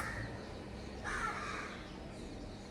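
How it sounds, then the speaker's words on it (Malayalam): A crow caws in short harsh bursts, one louder call standing out near the middle against a quiet outdoor background with soft hiss. "നിങ്ങൾക്ക് കാക്ക മാത്രമേ കേൾക്കുന്നുള്ളൂ"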